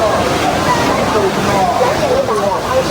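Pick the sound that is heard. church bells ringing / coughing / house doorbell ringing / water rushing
water rushing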